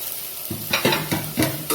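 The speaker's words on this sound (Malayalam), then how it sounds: "ഉള്ളിയും കൂടി ഇട്ട് കൊടുത്ത് നന്നായി ഒന്ന് വഴറ്റിയെടുക്കണം." Onions sautéing for a Kerala chicken stew, with a quiet hiss broken by four or five loud, rhythmic scraping stirs in the pan, close and with no voices.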